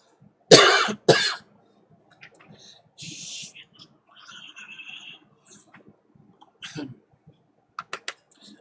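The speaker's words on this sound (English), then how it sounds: "we're going to start with the dry throat coughing now" Two sharp, dry coughs close by, followed by quiet throat noises, faint murmuring and a few scattered clicks.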